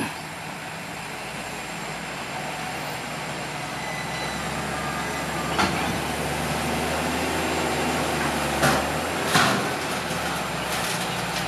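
A dump truck trailer hauling soil reverses to tip its load, with a steady electronic reversing beep over a heavy diesel rumble heard from a moderate distance, plus a few brief clanks near the end.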